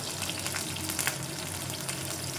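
Curry leaves frying in oil in a pan for vegetarian dal, giving a steady, dense sizzle with soft crackles throughout, close and fairly loud, with no talking.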